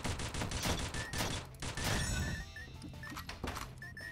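Rapid bursts of matchlock gunfire from the Dungreed video game, a loud fusillade of sharp cracks packed together at first, then thinning into scattered single shots and clinks over a ringing game background.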